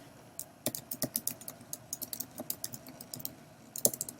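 Keys on a computer keyboard clatter in quick, uneven bursts of typing, close and fairly soft, with short pauses between runs and no voices.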